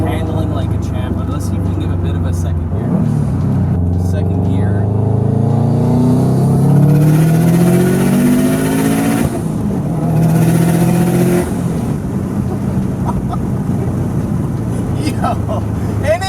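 A Subaru WRX hatchback engine pulls hard in second gear, its rising drone loud and steady from inside the car as the revs climb in sweeping bands, easing off and building again, with a voice talking over it.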